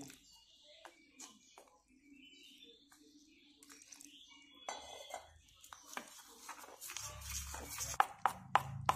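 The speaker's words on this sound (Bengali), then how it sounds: "এটা ভালোভাবে মিশিয়ে নেব" Spinach pakora batter stirred with a little water in a bowl, heard as soft intermittent scraping and light clinks against the bowl. The mixing grows busier and louder toward the end, with faint background noise throughout.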